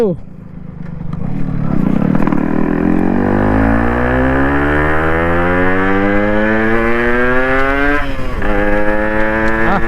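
A Yamaha RX 135 two-stroke motorcycle revs up loudly and close, its engine pitch climbing steadily in a long sweep, dipping briefly near the end before rising again.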